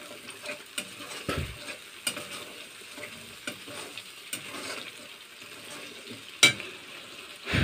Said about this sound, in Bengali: মশলাটা কষাই নেব